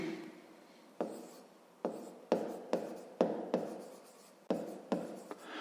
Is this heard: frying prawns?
no